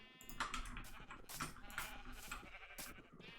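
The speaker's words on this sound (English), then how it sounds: "I think you can pick up the sheep through the fence" Sheep in the Minecraft Bedrock Edition video game bleat several times in quick succession, fairly faint, over quiet game ambience with no talking.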